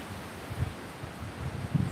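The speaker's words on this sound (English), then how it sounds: "it's getting really, really windy" Strong gusty wind outdoors buffeting the microphone, low rumbling bursts that swell and fade unevenly, with no voices.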